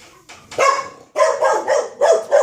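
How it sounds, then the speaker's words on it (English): An excited house dog barks in a run of loud, close yaps indoors, several sharp bursts in quick succession set off by a door. "Door went off and the dog goes mental every time he leaves the door"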